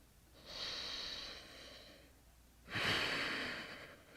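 Two slow, close breaths are drawn while holding a yoga back bend. The first is a long steady inhale and the second a louder, forceful exhale, with no talking.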